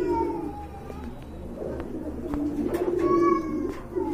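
Red pigeons in a loft give soft, low cooing calls that rise and fall close by, with a few higher tonal cries and scattered knocks against a steady background hum.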